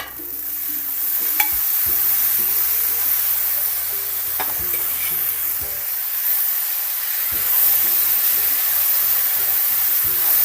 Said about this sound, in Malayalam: ഇതെല്ലാം കൂടിയിട്ട് നന്നായിട്ട് മിക്സ് ചെയ്തെടുക്കാം